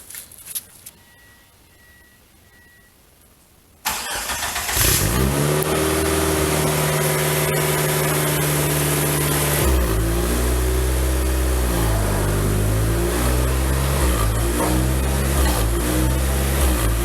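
An Eagle Talon TSi with exhaust coming straight out of the headers cranks and fires up, then settles into a loud, raw, rumbling idle with uneven revving, after a few quiet seconds.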